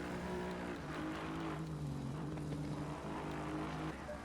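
A race car engine drones steadily on track in an Xbox racing game at Silverstone, a continuous mid-level roar with shifting pitch and no talking.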